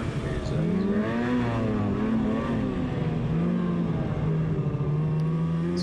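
A snowmobile engine drones continuously while riding off trail in deep snow, its pitch rising and falling as the throttle changes, heard up close and fairly loud with no talk over it.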